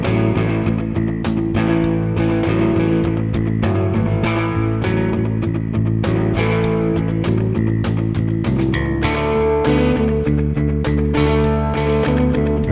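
Straight blues riff variation with an anticipated accent played on electric guitar, a busy run of plucked notes and chord stabs in a steady rhythm, close and fairly loud with no talking.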